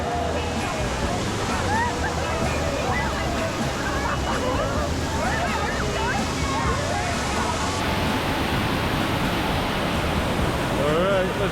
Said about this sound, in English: Ready to get some waves.